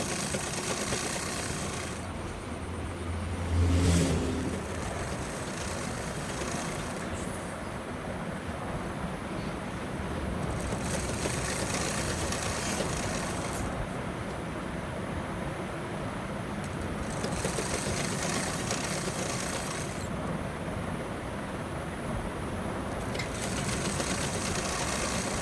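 An electric sewing machine stitches a fall border onto a sari, a steady close whirring drone that continues without break for the whole stretch, with faint mechanical rattle and no talking.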